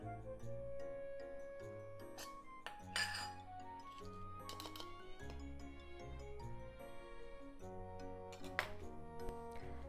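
A spoon stirring mayonnaise, lemon juice and curry powder in a bowl gives a few light clinks against the bowl, with background music playing throughout.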